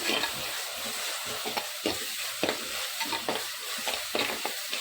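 Fish curry with onion and tomato is stirred in a pot, a spoon scraping in repeated strokes about every half second over a steady close sizzle, with no talk.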